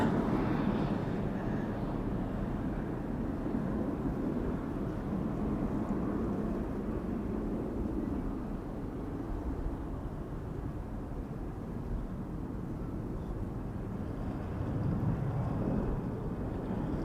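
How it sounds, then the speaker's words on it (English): An Embraer 190 jet takes off at Schiphol Airport, its engines a steady low rumble with broad roaring noise that holds for the whole stretch, moderately distant and never rising to a close pass. "Embraer 190 just took off from center"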